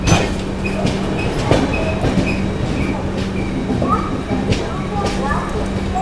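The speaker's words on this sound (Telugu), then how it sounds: "వర్షం పడుతుంటే లేక్ పక్కన ఉన్న స్టేషన్లోకి మనోడు స్లోగా ఎంటర్ అవుతున్నాడు" Vaigai Express passenger train rolling slowly into Chengalpattu station beside a lake in the rain, a steady low rumble of wheels and carriages with faint clatter and occasional squeals, with some voices in the background.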